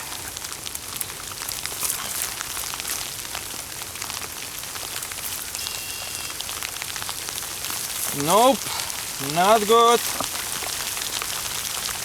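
Steady rain falls outdoors at a flooded water crossing on an overnight hiking trip, a constant close patter lasting throughout, while someone briefly speaks over it.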